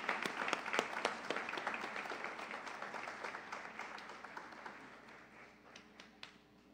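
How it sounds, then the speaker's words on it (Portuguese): Audience applauding at an honorary citizenship ceremony, a dense patter of clapping with a few sharper individual claps, gradually thinning and fading out toward the end. "Palmas para o Cleito e para o senhor João"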